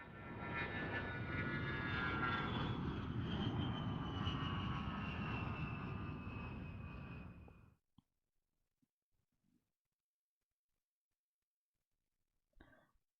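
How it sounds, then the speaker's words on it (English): Airplane sound effect in the Cupid Parasite video game: a steady, droning engine roar with a high whine runs for nearly eight seconds, then cuts off abruptly into near silence with a few faint ticks. "Airplane."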